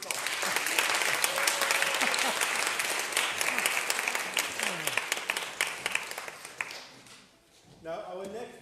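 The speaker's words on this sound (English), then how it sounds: "Can we have a round of applause for Father John for his song?" A crowd applauds warmly after a song at a Christmas concert in a church, steady clapping filling the room for several seconds before fading out, followed by a brief voice.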